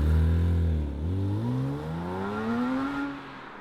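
A Porsche Boxster S 987 with a mid-engined flat-six revs up, its tone dipping briefly and then climbing steadily, close and moderately loud with no talk.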